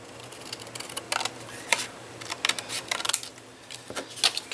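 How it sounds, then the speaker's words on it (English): Trimming a card panel along a marked line, a series of short, crisp cutting clicks and scrapes, close and fairly quiet, in an irregular rhythm. "This one will trim right on the line because it's the right size."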